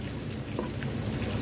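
Continuous bubbling and light sizzling from a pot of fish with tomato and tamarind, steady and close, with a few small pops rising above the simmer.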